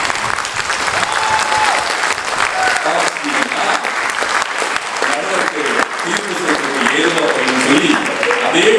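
A live Tamil pattimandram debate audience claps loudly and continuously for old songs. A voice starts speaking over the sustained applause in the second half.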